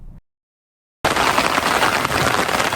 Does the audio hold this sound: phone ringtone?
no